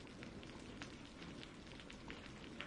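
Steady rain falls in a village, a dense, even patter of drops on surfaces that stays constant and fairly quiet throughout.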